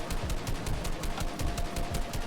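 Rapid gunfire in the video game Rex Royale shoots down a UFO: a steady string of quick, evenly spaced shots at moderate volume, with no voices.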